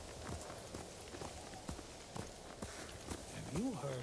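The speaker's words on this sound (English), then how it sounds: "You're a good horse, Kage." Horse hooves gallop in the video game Ghost of Tsushima, a quick steady clopping rhythm over a continuous background, with a short rising tonal call near the end.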